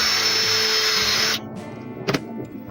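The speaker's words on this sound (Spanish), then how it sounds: "vamos a meter igual una broca de 1/8 para poder meter nuestros tornillitos" A power drill runs a 1/8 inch bit into a mortise lock plate, a loud high whine for over a second before it stops abruptly, followed by a brief clatter.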